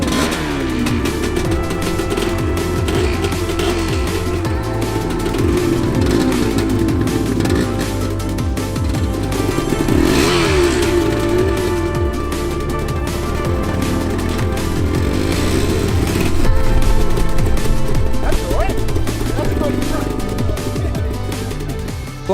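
A two-stroke motorcycle engine runs loud and close with a steady buzzing drone that swells with revs, mixed under background music with no talking.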